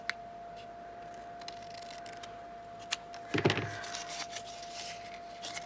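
Scissors snip a string on a beaded rosette, a single sharp cut with a short rustle after it, close against quiet room tone.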